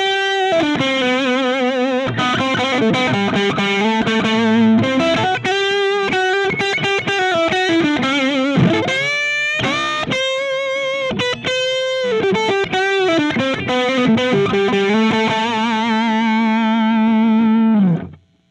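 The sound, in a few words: electric guitar neck pickup humbucking through Blankenship Custom 45 amp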